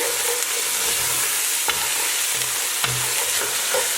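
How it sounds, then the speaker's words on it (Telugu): Chicken pieces frying in a pan for gongura chicken, a loud, steady hiss of hot oil with occasional clanks and short stirring scrapes, close up and with no voices. "బాగా ఫ్రై అవ్వనివ్వండి ఇట్లా"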